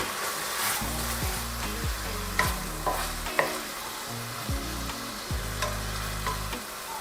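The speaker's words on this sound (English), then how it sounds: "We're going to give this a good mix, our minced garlic, and our oregano" Minced garlic and oregano being stirred into sizzling, softened onions in a pan, with repeated scraping strokes of a spoon over a steady frying hiss.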